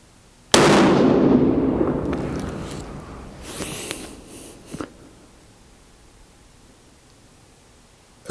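A single loud, close rifle shot from a Ruger M77 in .270 or .30-06, fired outdoors in cold weather; a sharp blast with a long rolling echo fading over several seconds, followed by faint handling clicks.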